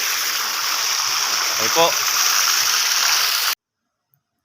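Irrigation water pours steadily into a concrete catfish pond, a constant rushing gush that fills the scene, with a brief spoken remark over it before the sound cuts off abruptly.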